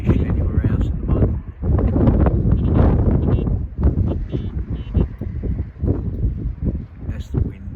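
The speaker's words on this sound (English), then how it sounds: "That's the wind." Wind blowing outdoors at a carp fishing lake, heavy gusty buffeting against the microphone, loud and close, rising and falling in uneven surges throughout.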